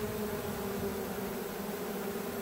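A dense, steady buzz of a honey bee swarm arriving at a hive, many bees humming together, close and continuous with a droning low tone throughout and no voices.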